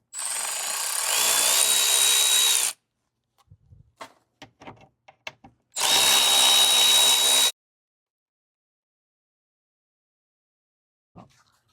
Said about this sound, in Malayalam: ഇവിടെ 2 ടോർക്ക് സ്ക്രൂ വരുന്നുണ്ട്, അത് റിമൂവ് ചെയ്ത് കഴിഞ്ഞാൽ ഈ ഇൻടേക്ക് സ്കൂപ്പ് പോരേണ്ടതാണ്.